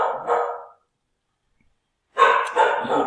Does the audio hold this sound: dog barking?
yes